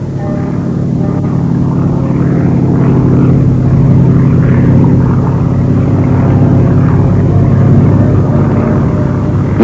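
A Yak-52 propeller airplane in flight gives a loud, steady engine and propeller drone that holds unbroken throughout, with no other sounds over it.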